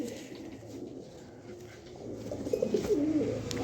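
A frightened pigeon of a top-quality foreign breed coos in low, throaty bursts that swell louder toward the end, close by with a faint background hum.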